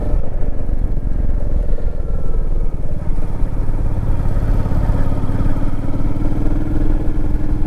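A Royal Enfield Meteor 350 motorcycle riding on a ghat road, its engine thumping in a steady, loud, continuous drone with wind rush and no break, heard close from the rider's position.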